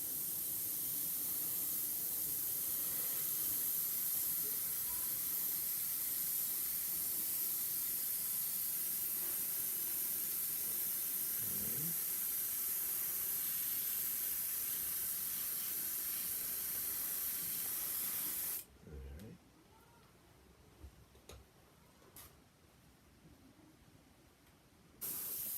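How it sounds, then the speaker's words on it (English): An airbrush sprays paint in a long, steady hiss held close for most of the stretch, then cuts off abruptly near the end, leaving faint, brief bursts and near-quiet. "You want to try to start your airbrush off your surface in case it spits on you."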